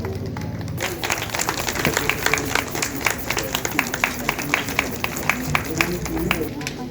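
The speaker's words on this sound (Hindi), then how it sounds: "जोरदार तालियां बजनी चाहिए।" An audience at an annual general meeting claps: scattered applause that settles into sharp, rhythmic hand claps with voices mixed in underneath, moderately loud and close.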